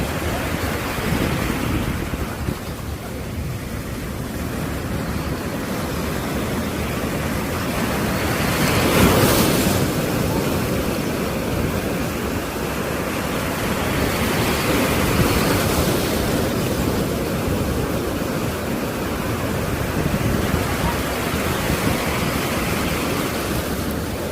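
Ocean waves roll and wash in a continuous broad rush of surf, swelling and fading in slow surges over about twenty seconds with no voices.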